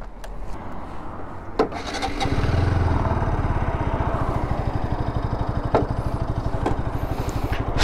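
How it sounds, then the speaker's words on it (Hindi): A Bajaj Pulsar RS200 BS7 motorcycle idles on its stand, its exhaust note a steady rapid thumping close by, with a few sharp clicks and knocks over the top. "एग्जॉस्ट नोट जो आता है वो NS 200 एंड RS 200 की तरफ से आता है। तो पहले एग्जॉस्ट नोट ही सुनाया जाए।"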